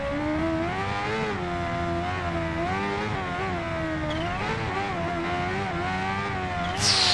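Kawasaki Ninja H2R 2015 superbike engine in the Ride 2 racing game, revving hard and continuously with rising and falling pitch as the throttle opens, loud and close, with no talk over it.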